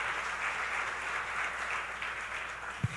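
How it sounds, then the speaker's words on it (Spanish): A church congregation applauds during a celebration service, a steady wash of many hands clapping that holds evenly throughout, with a single low thump near the end. "tenemos que aplaudir esta verdad"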